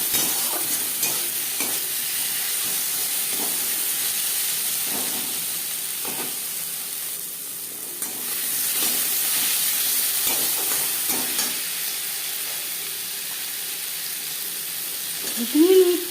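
Fish fat, onions, slit green chillies and spice masala fry in a pan with a continuous close sizzle and hiss, while repeated soft scraping strokes of stirring sound throughout.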